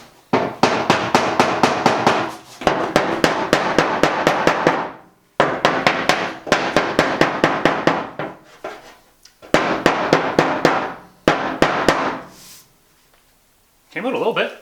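Rapid bursts of metallic hammering on a car fender, delivered in fast rhythmic strings of blows separated by short pauses, loud and close, with brief silence near the end.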